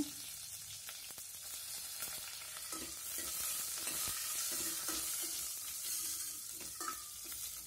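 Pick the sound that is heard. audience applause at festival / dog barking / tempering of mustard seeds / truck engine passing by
tempering of mustard seeds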